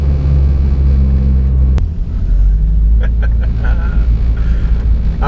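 A Honda-powered Toyota MR2 accelerates hard on a quarter-mile run, its engine a loud, continuous roar with deep low rumble. A sharp break near the start sounds like a quick gear shift.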